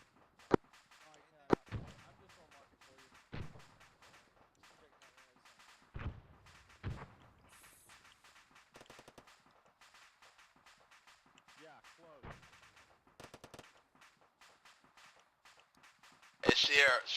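Scattered sharp gunshots crack at irregular intervals under ongoing talk, ending in a louder burst of rapid fire, during a military video game fireteam training session.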